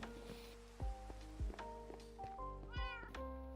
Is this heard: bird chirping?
no